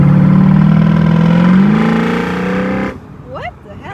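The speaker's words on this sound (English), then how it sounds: "That's the induction noise." A BMW E92 M3's engine intake roars loudly as it revs and rises in pitch, then cuts off abruptly, leaving a brief quiet spot with a voice.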